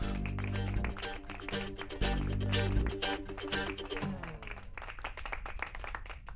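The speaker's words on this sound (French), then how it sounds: "Pour Bitou et Mouni, s'il vous plaît, un tonnerre d'applaudissements." An audience applauds on a television show, with dense clapping that starts loud, holds steady for a few seconds and then thins out and fades. Music plays underneath.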